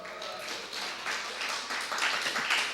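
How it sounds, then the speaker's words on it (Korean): A congregation at a Korean church sermon claps together in a soft, dense patter that builds slightly over a few seconds, heard at some distance and fairly quiet. "박수."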